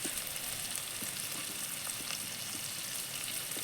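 Chopped onions sizzle and crackle steadily in hot oil with mustard seeds, a constant frying hiss with small pops, no voices heard.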